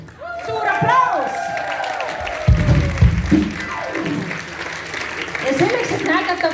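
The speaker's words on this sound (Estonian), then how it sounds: "Suur aplaus!" Live concert audience at Tartu Uus Teater applauding and cheering for the band's drummer, a broad wash of clapping and crowd noise with whoops, mixed with voices and some music at the start and end.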